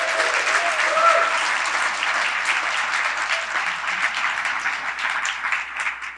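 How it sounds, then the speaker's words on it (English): A large audience at a citizen of the year awards event applauds a governor, a full wash of clapping that swells early then gradually thins toward the end. "Let's give Governor Ed Rendell a real big round of applause."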